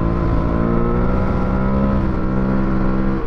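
Engine of an Aprilia Tuareg 660 motorcycle held at high revs as it slides sideways off-road, a loud, steady, close drone that fills the whole stretch with no pause.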